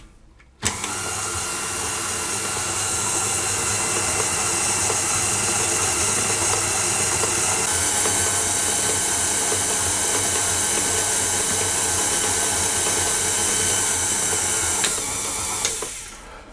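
A stand mixer with a dough hook works butter into brioche dough, a loud, continuous motor whir with a mechanical rattle that starts abruptly, holds steady for about fifteen seconds and then winds down.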